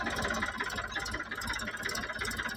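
A tractor engine runs steadily at a farm, a continuous mid-to-low rumble that stays loud and even throughout, with no voices over it.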